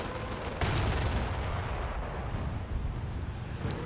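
Grenadiers fire in Company of Heroes, a dense burst of loud gunfire and explosions with a sharp blast near the start and a rumbling, crackling wash afterward, with no talking.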